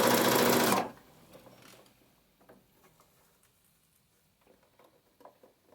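A sewing machine stitching a sleeve seam during garment construction starts with a loud, steady whir for under a second, then stops, leaving faint handling clicks and rustles.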